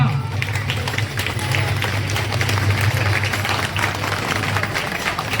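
An audience claps after a family's Ganesh skit, a dense, continuous roar of hands at steady loudness with voices mixed in.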